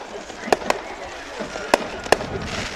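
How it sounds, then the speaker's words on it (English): Fireworks after a high school football semifinal playoff game, heard as several sharp distant bangs spaced irregularly over a steady crowd and outdoor murmur. "And the fireworks are out."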